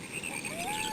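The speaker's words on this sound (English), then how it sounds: "Frog. Rivet, rivet." Frog croaking in a Berenstain Bears game, one short close croak with a rising tone, lasting about a second.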